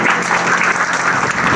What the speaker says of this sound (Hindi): एक बार जोरदार तालियां पवन जी के लिए बजाएंगे।